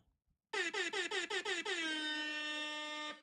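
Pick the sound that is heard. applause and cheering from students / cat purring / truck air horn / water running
truck air horn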